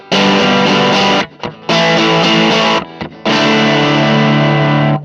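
Electric guitar played through a distortion effects pedal, loud and saturated, with three sustained chords or notes separated by brief muted gaps, no voices.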